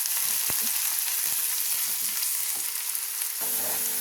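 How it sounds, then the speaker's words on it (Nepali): Ginger, garlic and chopped onion fry in a pan with a steady broadband sizzle, broken by a few sharp clicks and scrapes of stirring; the sizzle stays loud and continuous throughout. "अदुवा लसुन लगायो, त्यहाँदेखि प्याज लगायो, बिस्तारै चलाउनु पर्यो।"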